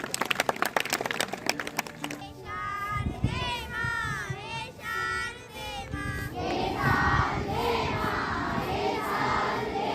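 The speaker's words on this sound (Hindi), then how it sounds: "एक बार जोरदार तालियां अमरलाल जी सर के लिए" A school audience of students claps for a teacher at a Basant Panchami celebration in a government senior secondary school. Clapping rings out first, then gives way to crowd noise, children's voices and singing-like tones.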